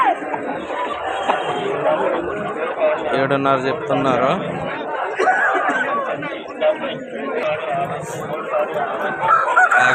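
Roosters at a busy Vijayawada fighting-rooster market, heard as occasional crowing and clucking mixed into a steady crowd of chatter and bargaining voices, with someone talking throughout in the foreground.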